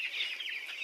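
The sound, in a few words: chickens clucking at poultry farm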